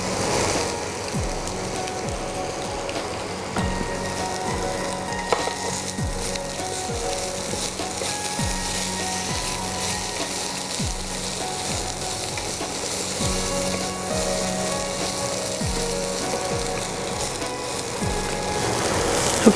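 Boiled potatoes fry with kasuri methi and spices in a pan, giving a continuous close sizzle broken by regular scraping strokes from a spoon stirring against the pan, with no one speaking.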